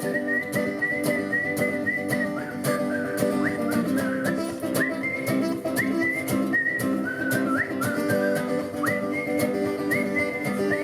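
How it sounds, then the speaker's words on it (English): A person whistles a melody during a live show at a music festival, with clear, steady tones that rise in short phrases over sustained instrumental backing. "Whistle."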